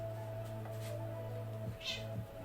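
A cat meows indoors, several short calls spread across a couple of seconds over a steady background hum.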